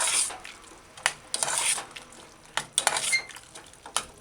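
A spoon stirs ketchup into a mushroom and chickpea stew in a pan, making intermittent scraping strokes and clinks against the pan, with a faint sizzle in the pauses and no talking.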